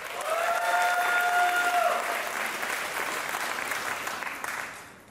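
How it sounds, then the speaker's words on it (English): An audience at a pitch competition event applauds for several seconds, a dense steady clapping that slowly fades toward the end. "You should be clapping louder for the investor for sure."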